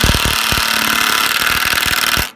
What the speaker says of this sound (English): that's a hammer drill, and it just puts it in there beautiful